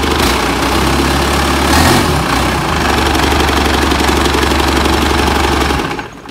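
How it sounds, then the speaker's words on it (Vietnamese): A boat engine runs smoothly and steadily, a loud, close, continuous rumble with an even mechanical beat that holds throughout and cuts off abruptly near the end. "những động cơ mình khởi động mà chạy trơn tru vậy nè, chạy ổn định vậy nè"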